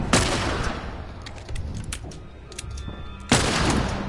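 Gunfire in The Last of Us, a burst of sharp shots at the start, scattered single cracks through the middle and another loud volley near the end, with no talking.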